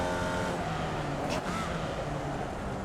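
A race car roars past in a racing video game, a dense continuous engine drone with a brief surge as it goes by, close and loud throughout.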